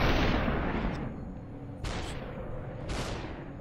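Gunfire in the video game SUPERHOT: a dense, loud opening blast followed by two more sharp shots at about one-second intervals, each trailing off quickly.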